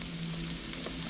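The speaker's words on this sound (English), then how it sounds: "You want to do a quick sauteing. I always start with my onions first." Onions sauté in a pan, a brief, even sizzling hiss held close throughout, with a low hum beneath and one soft stir near the end.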